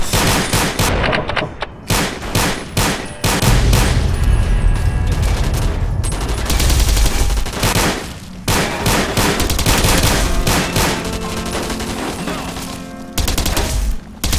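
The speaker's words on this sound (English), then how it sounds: "Let's try some energy weapons." Rapid bursts of weapon fire from energy weapons in the video game Fallout New Vegas crackle loudly in repeated volleys with brief pauses between them, with no talking.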